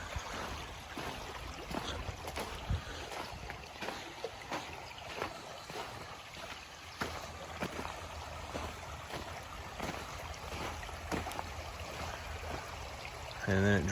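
Water from a hand-dug ditch trickles and flows steadily into a backyard pond, a continuous broadband wash that stays even and fairly close throughout, with no speech over it.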